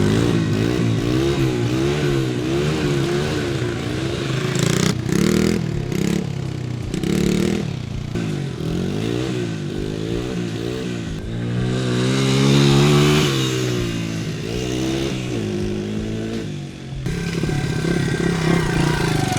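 A small pit bike engine runs steadily up close for about twenty seconds, its pitch rising and falling as the throttle is blipped and revved, with some mechanical clatter mixed in.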